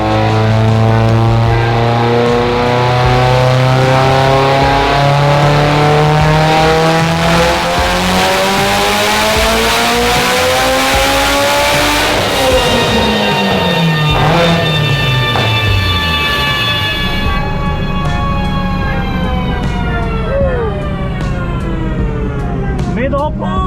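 A heavily tuned Honda Civic Type R engine pulling hard on a Mustang chassis dyno, its loud droning note climbing steadily in pitch through the rev range before abruptly falling away as the throttle closes and the revs wind down.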